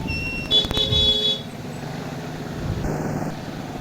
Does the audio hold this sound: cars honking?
yes